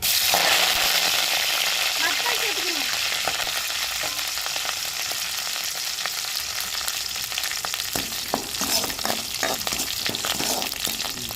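Curry leaves frying in a pan for pepper rasam, a bright crackling sizzle that is loud at first, then settles into steady frying with a few stirring clatters near the end.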